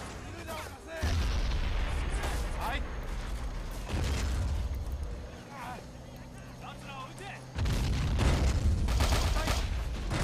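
Booming grenade explosions and scattered gunfire in the WWII strategy game Men of War: Assault Squad, in the Japan–Singapore battle, with heavy blasts rising and falling while someone talks over the combat.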